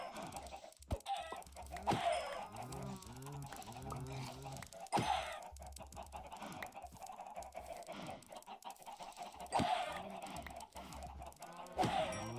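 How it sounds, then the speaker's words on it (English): Many Minecraft chickens cluck in repeated short bursts, with several sharper squawks spaced through the stretch, fairly faint and busy, with no talk. "There were a lot more chickens than I thought there were."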